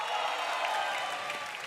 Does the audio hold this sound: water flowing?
no